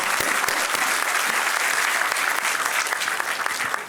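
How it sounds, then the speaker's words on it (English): An auditorium audience applauding academics in the room, sustained dense clapping filling the space at a steady level for several seconds. "a very big round of applause for the academia in the room today"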